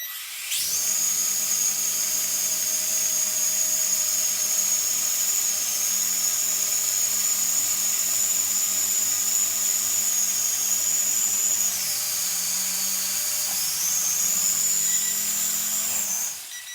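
A small drone lifts off in one-key takeoff, its propellers holding a loud, steady high whine that shifts pitch briefly near the end, then cuts off.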